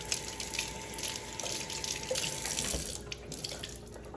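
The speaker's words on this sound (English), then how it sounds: "I'm gonna put some more warm water" Warm water runs steadily from a tap into a sink, a close, continuous splashing stream with a slight shift in tone near the end and no talking.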